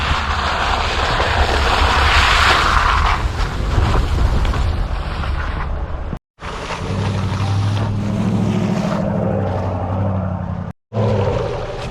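A 2022 Ram Rebel GT pickup truck accelerates and slips in snow, its engine roaring loud and close, then surging in revving waves with two abrupt brief cutouts.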